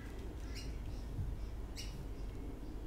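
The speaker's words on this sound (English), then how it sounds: "There's so many birds going on." Birds call outdoors, with a few brief squawks and chirps rising over a steady low background hum, moderately near and not very loud.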